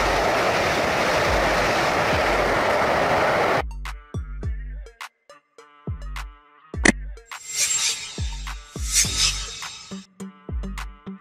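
A high-speed train rushes past in a loud, broad roar that cuts off abruptly, followed by a series of sharp, spaced clacks and ringing metallic tones of uneven rhythm.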